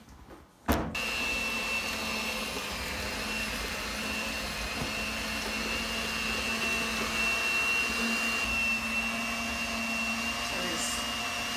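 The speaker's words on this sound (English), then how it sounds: "Mixing it on the lowest setting, trying to get as much as we can with the mixer to incorporate probably a cup." An electric mixer runs on its lowest setting through cookie dough, a steady loud motor whine holding constant after a brief clatter at the start, with no talking over it.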